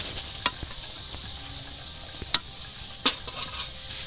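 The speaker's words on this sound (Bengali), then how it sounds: "এবার ভাজা হচ্ছে ফুলকো ফুলকো" Puffy luchi frying in hot oil, a soft steady sizzle with a few sharp pops and crackles scattered over it, heard close and fairly quiet.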